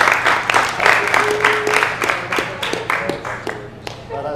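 Audience at a business talk on coral reef conservation applauds, a loud burst of close, distinct claps that thins and tapers toward the end, with some voices murmuring underneath.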